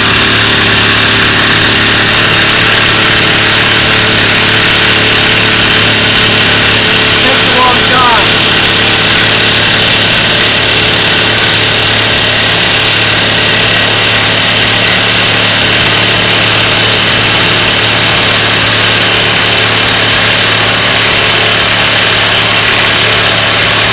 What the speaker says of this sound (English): 5-inch lag bolt with the Hercules 2 amp hour battery